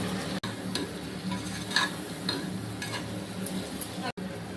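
Chicken biryani masala sizzling in a pan as it is sautéed and stirred, a steady frying hiss with occasional clicks of the utensil against the pan, no talk.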